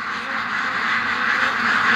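Ducks quack continuously in a dense, noisy chorus, agitated by strong wind, steady and fairly loud throughout, with a constant windy rush beneath.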